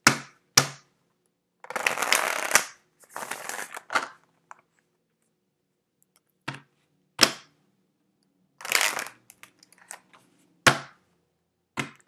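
Tarot cards being shuffled in scattered bursts: a longer riffle near the start, then sharp, separate slaps and flicks with quiet gaps between.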